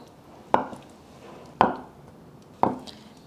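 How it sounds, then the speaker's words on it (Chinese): A knife chops firm tofu into strips on a cutting board, three sharp, evenly spaced cuts heard up close with quiet pauses between them. "准备50克的板豆腐，切薄片， 接着切条"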